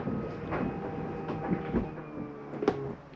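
The slide-out on a 2023 Redwood 4150RD fifth-wheel RV retracts with a quiet, steady motor hum, broken by a few soft clunks and knocks as the room moves in.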